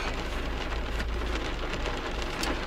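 Steady rain patters densely on surfaces outdoors, a constant hiss of drops with no other sounds on top.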